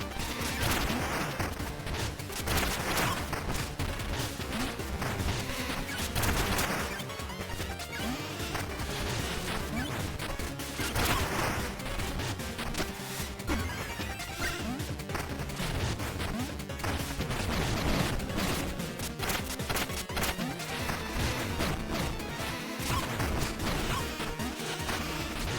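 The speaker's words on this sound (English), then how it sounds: "You shoot out a shit ton of flies now, and they explode" Dense, nonstop crashing and thwacking from swarms of exploding flies during a boss fight in the video game Mina the Hollower. Rapid overlapping blasts and whooshes form a loud, busy wall of sound with no talking.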